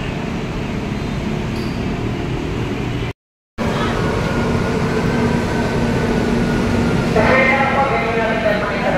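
Ride aboard a Manila MRT metro train, a steady loud rumble of the moving carriage with squealing tones from the wheels and people talking throughout.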